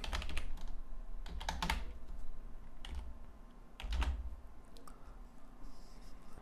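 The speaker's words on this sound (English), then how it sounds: "Okay, I type in some text because my div tag would collapse without content" Computer keyboard keys clatter in quick irregular bursts while HTML for a website is typed, close and fairly quiet with short pauses between runs of keystrokes.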